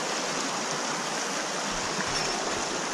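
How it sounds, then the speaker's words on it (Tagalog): Creek water rushes steadily through rocky Eldorado Canyon, a dense, even hiss of flowing water heard up close with no voices. "Itong creek. Ang gandang pasok ng tubig."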